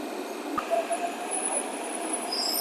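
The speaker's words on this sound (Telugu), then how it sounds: "మెట్రో అయితే వచ్చేసింది" A metro train pulling into a station platform, heard as a steady broadband rumble and hiss with faint high whine and squeal, fairly loud and continuous with no talking.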